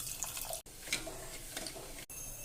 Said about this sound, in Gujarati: ચાસણી બનાવવા માટે તેમાં ખાંડ ડૂબે એટલું પાણી રેડવાનું